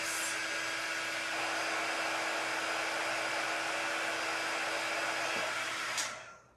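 A heat gun blows steadily over wax spread on a painted surface, a constant loud whooshing drone that holds for about six seconds and then cuts off, with no talking.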